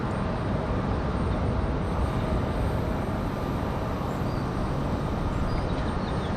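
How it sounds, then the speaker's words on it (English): An American Airlines Boeing 737-800 arriving from Dallas Fort Worth at Raleigh-Durham gives off a steady, broad jet roar that holds at an even level throughout, with no talking. "American Airlines 1888 coming in from Dallas Fort Worth"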